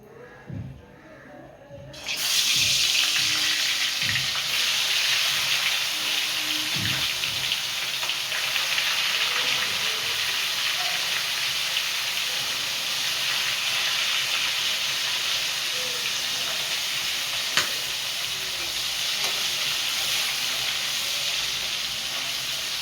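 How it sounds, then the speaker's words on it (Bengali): Catla fish heads drop into hot oil, and a sudden loud sizzle bursts in after a quieter start. The dense, steady frying hiss then continues close up for the rest of the clip. "তেল গরম হয়ে গেছে। এই মাছের মাথাগুলো ভেজে নেব।"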